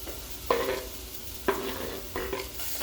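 Chopped beans and green chilli fry with onion in a pan. A close, steady sizzle is broken by three distinct scrapes of a spoon as the mix is stirred, and no one speaks.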